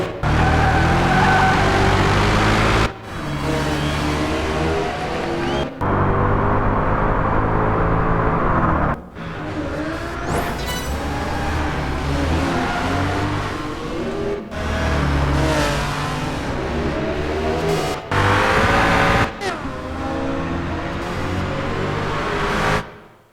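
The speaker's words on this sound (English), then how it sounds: "this really sounds like an angry V8" A V8 race car engine in Project Gotham Racing 4 revs hard and loud through repeated gear changes, the snarling roar dropping briefly between shifts and climbing again, alone with no talk.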